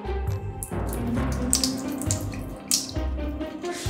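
Excess water is poured off a cup of swollen gel water beads, splashing and trickling like a running tap into a sink, with a few louder gushes and drips over a steady wash of water.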